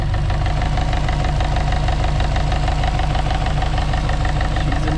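A high-mileage Subaru 2.5 engine idles with a rhythmic, evenly spaced knocking, loud and close, with the steady thump repeating over the engine's low drone.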